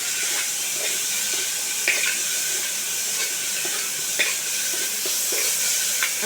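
A finely chopped large onion sautés lightly in a hot pan for chicken pasta, giving a steady, bright sizzle with a few soft stirring clicks and scrapes, close and continuous without any voices.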